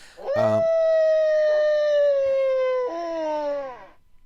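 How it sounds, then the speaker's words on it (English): In Minecraft with the Animals+ mod, a creature gives a long, clear wolf howl that holds one steady tone, then dips lower before fading. It comes alone and close, without talking. "It can also make wolf noise, as you just heard."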